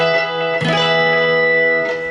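Lap steel guitar holding a sustained bright note with a clear picked attack partway through and another near the end, ringing loud and close with no voices.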